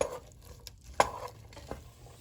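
Vegetables for a lasagna cook in a pan over medium-high heat, giving a faint low sizzle as they are stirred, with a few soft scrapes and one sharper tap of the utensil against the pan.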